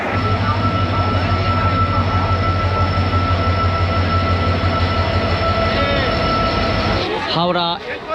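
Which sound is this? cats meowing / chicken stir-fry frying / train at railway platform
train at railway platform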